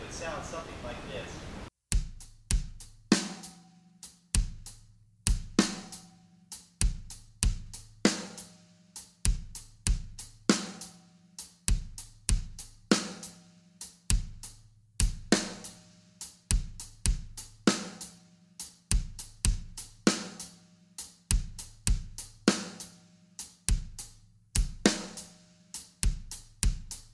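A slow hip-hop drum groove plays alone: deep kick and snare hits keep a steady, unhurried pulse while a hi-hat ticks on the off-beats.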